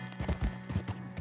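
Horse hooves in Red Dead Redemption 2: a quick run of clip-clop hoofbeats, several close, soft thuds in an uneven galloping rhythm lasting about a second.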